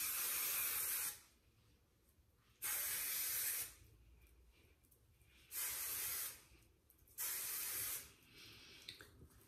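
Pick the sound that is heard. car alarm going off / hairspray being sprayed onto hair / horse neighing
hairspray being sprayed onto hair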